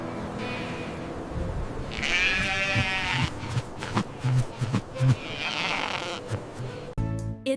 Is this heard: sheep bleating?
yes